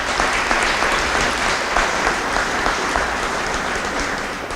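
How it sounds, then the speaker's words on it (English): A large audience at a celebration for the approval of a regional medical center claps steadily and loudly, sustained applause filling the room with no voices on top. "Can we give them a round of applause?"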